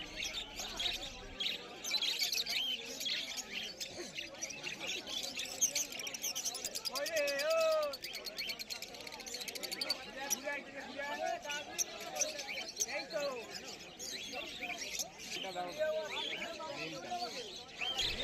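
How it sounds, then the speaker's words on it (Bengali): Love birds chirp in a crowded pet bird market, a busy scatter of quick tweets and calls from many birds at once, carrying on under a person talking nearby. "এখানেও প্রচুর পরিমাণে লাভ বার্ড আছে।"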